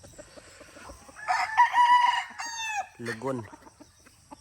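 A white Kelso rooster, eight months old, crows and clucks close by in short bursts, with someone speaking briefly nearby.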